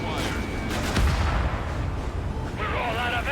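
Rapid aircraft cannon fire in the combat flight game Ace Combat 7 forms a dense, continuous roar, with a heavier burst about a second in, heard within loud, busy battle noise.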